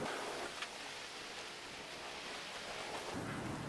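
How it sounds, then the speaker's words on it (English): Steady rain pours down outside during a gale, with gusty wind and faint rumbles blended into a dense, continuous wash of noise that stays loud and even throughout, with no voices. "It is blowing a gale outside"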